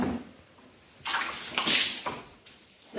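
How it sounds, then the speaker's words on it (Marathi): Water is poured over a freshly scrubbed floor during household cleaning and swept away with a broom, heard as a broad close splash and rushing wash that swells midway, then tapers off. "आता काय पाणी टाकून हे सगळं पाणी काढायचं"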